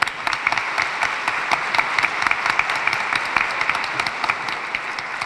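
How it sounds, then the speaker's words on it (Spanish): An audience at an immigration town hall in the Santa Ana High School auditorium keeps up lively applause, many individual claps snapping distinctly through a steady crowd wash without any speech. "John Palacio, un aplauso para él, por favor."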